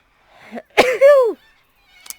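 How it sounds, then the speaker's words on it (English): A single sneeze with a short sharp intake and a loud, tonal burst that trails off, preceded by a faint breath and followed by a small rustle. "oh, I'm gonna sneeze"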